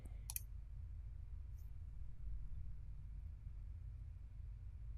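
One crisp computer mouse click sounds near the start, then only a quiet low hum continues.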